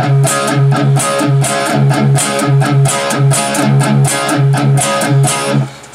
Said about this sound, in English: and then hit the chord, palm mute the root twice,